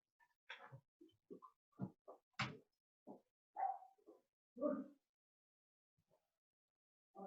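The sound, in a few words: dogs barking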